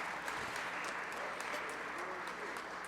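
A jazz concert audience applauds in a soft, even wash of many hands, heard from a distance and faint throughout.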